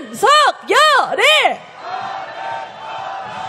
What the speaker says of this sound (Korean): 계속 구호 외쳐보겠습니다